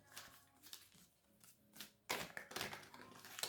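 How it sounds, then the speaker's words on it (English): Soft, quick riffling and tapping of cards being shuffled, in short bursts close by, getting busier and louder toward the end. "I'll give you a few seconds as I shuffle."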